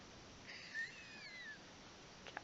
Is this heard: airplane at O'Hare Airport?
no